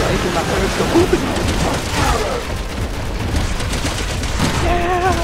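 Machine gun fire in the video game Resident Evil 6, a continuous rattling barrage with people talking over it.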